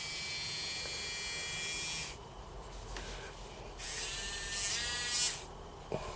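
A small handheld electric grinding and engraving tool whirs with a high, buzzing whine, cutting out and restarting a couple of times at different speeds; faint and close, with no talking.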